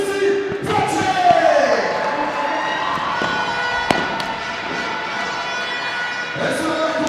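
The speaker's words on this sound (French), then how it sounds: "Les applaudissements pour Lucie Platcher." A crowd applauds padel player Lucie Platcher at the women's final of the 2025 Interclubs padel event, a steady wash of clapping with a commentator talking over it and a sharp knock partway through.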